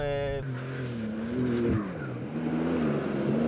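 A Porsche 911 Dakar rally car based on the Carrera GTS with GT3 parts, driven in the Sahara, its engine a low steady drone with shifting revs heard from inside, while a voice talks over it.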